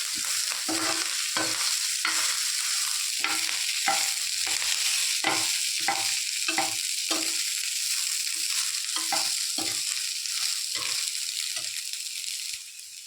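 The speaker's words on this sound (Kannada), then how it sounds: "ಕರಿಬೇವಿನ ಸೊಪ್ಪು ಒಂದು 10 ಎಲೆ ಇಷ್ಟನ್ನು ಹಾಕಿ ಪುನಃ ಒಂದೆರಡು ನಿಮಿಷ ಫ್ರೈ ಮಾಡ್ಕೋಬೇಕು" Curry leaves, about ten of them, fry in a pan for a homemade chicken curry. A steady sizzle runs throughout, broken by a regular series of sharp scraping strokes from a spoon stirring the pan.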